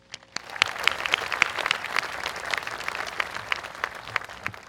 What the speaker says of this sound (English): so let's give Amanda another round of applause